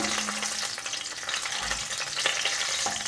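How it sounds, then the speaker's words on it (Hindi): Whole garam masala spices fry in hot oil, a constant soft crackle and sizzle with a few light stirring clinks, close and fairly quiet. "1 मिनट तक या खुशबू आने तक मैं मसालों को ऑयल में पकाऊंगी।"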